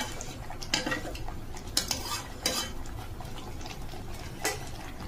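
A spice masala sautéed in a pan while being stirred: a steady low fry under intermittent scraping and clinking of a utensil against the pan, with a few sharper knocks, close and moderately loud throughout.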